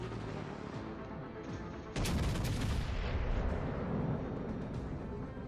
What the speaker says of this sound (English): I'll fire on a Shleiffen and save the other two guns for you